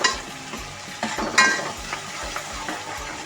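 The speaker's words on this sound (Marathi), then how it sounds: "वाटण ते टाकायचं त्याला जरा वेळ परतून घ्यायचं तेल सुटेपर्यंत" Ground masala paste frying and being stirred in hot oil in a pan until the oil separates, a steady close sizzle with repeated scraping stirs throughout.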